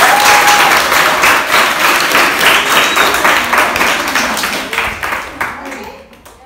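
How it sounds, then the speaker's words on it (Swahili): Applause and clapping at a children's birthday celebration, dense and steady throughout, with a crowd murmur beneath and voices calling out, tapering slightly toward the end. "Wapi makofi yao?"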